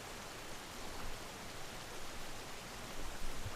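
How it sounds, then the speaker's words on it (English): Steady rushing waterfall ambience from the video game Sky: Children of the Light, a dense, continuous hiss-like roar at even loudness with no talk over it. "the waterfall sound is kind of annoying on my end."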